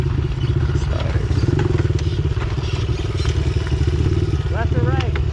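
Pit bike ridden at night at a speedway: a steady, loud engine drone with rattling and clatter throughout, while a rider talks over it.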